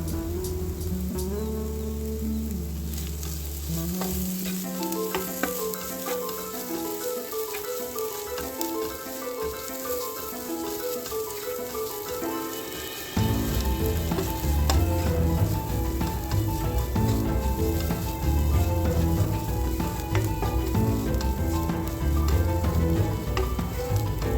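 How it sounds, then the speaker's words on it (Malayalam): Ground masala paste being stirred into a tomato gravy curry, a steady sizzle and frying hiss running throughout, growing louder and denser about halfway through once the paste hits the pan, with no talking. "ഇനി നമ്മൾ നേരത്തെ അരച്ച് വെച്ചിട്ടുള്ള അരപ്പും കൂടെ ഇതിലേക്ക് ചേർത്തിട്ട് അത് നന്നായിട്ടൊന്ന് ഇളക്കി കൊടുക്കാം"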